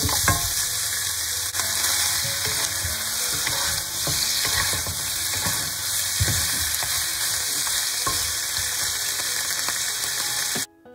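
Beef brisket and pig trotters stir-fried in a wok over high heat give a steady, loud sizzle across the whole stretch, with frequent scraping and clacking from the spatula tossing the meat.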